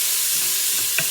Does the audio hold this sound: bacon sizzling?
yes